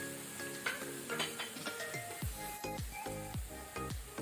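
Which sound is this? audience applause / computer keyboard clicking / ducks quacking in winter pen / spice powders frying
spice powders frying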